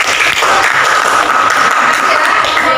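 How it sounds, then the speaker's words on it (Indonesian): Steady applause from a classroom group after a student group's presentation, dense and continuous throughout at close range, with no talk over it. "dari tepuk tangan juga untuk kelompok"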